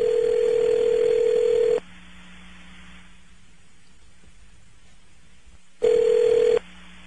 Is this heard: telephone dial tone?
yes